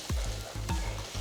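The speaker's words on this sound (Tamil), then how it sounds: "இப்போ 4 மீடியம் சைஸ் தக்காளி நறுக்குனது சேர்த்து வதக்குங்க." Four medium chopped tomatoes are sautéed with onions in a pan for a Tamil-style vanjaram fish curry. A spoon scrapes and stirs in quick rhythmic strokes over a soft, continuous sizzle, up close with no talking.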